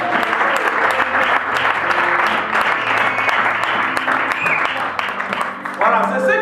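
A francophone Baptist church congregation claps loudly and continuously for Jesus, a dense crowd applause filling the hall while a voice speaks over it.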